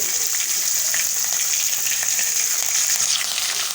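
Hot oil sizzles with green chillies and curry leaves crackling among mustard seeds and cumin, a bright, steady hiss with scattered pops, close and fairly loud, no talking.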